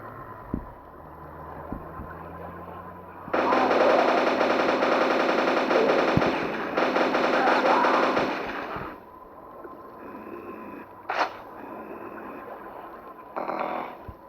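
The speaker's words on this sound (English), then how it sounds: "Go back to the trusty nail gun." Rapid nail gun fire in Quake, played on Android with Google Cardboard: sustained bursts of dense repeated shots lasting several seconds each, separated by brief pauses, loud over a steady background hum.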